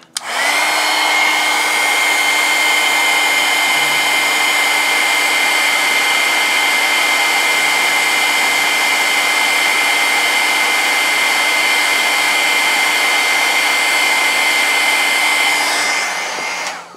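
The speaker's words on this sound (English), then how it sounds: "And then get your heat tool again," A heat tool blows hot air in one loud, steady, close roar. It starts abruptly, holds constant for about sixteen seconds, then cuts off, with no voices.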